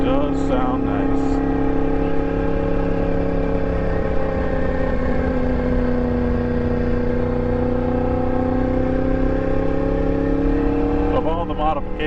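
A Yamaha MT-10 with an Austin Racing exhaust runs with a loud, close, continuous engine note whose pitch sags slightly, then steadies.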